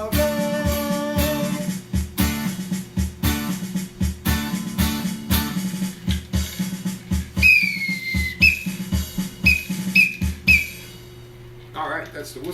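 Repeated short whistle toots in a bouncy rhythm over a steady musical accompaniment, then a few higher sliding whistle notes near the end.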